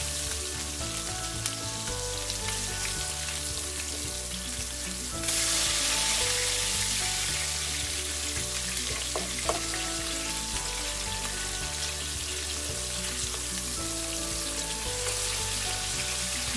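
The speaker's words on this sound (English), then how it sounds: "We're going to continue frying this nice and spicy for another 3 minutes on medium-low" Steady crackling sizzle of spicy seer fish frying in a pan with masala, with the hiss briefly growing louder partway through, no voices.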